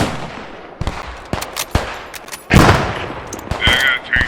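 Shots crack out in a night urban firefight in the video game PostScriptum, French against German: sharp scattered reports, some close and loud, a burst near the middle, with softer distant fire between.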